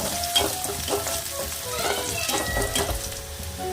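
Onions, curry leaves and dried chillies frying in hot oil for a South Indian goat blood fry, a steady close sizzle with occasional stirring scrapes and crackles.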